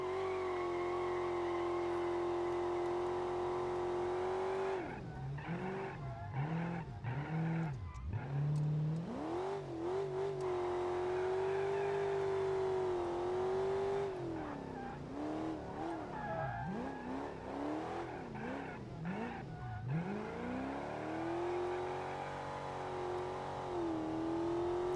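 A car in the BeamNG driving game revs hard and accelerates through gears, engine pitch climbing and dropping repeatedly with tire squeals and skids, loud and continuous for the whole stretch.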